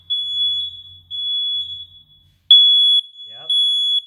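Household smoke detector sounds during a test, four loud piercing electronic beeps in even bursts with short gaps. A brief low murmur of a voice falls between the last beeps.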